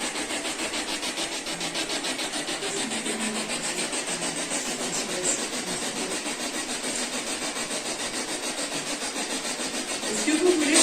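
Ghost-hunting Spirit Box radio scanning inside a house gives a constant crackling hiss with rapid stuttering pulses, steady and fairly loud, with faint fragments of voice buried in the static.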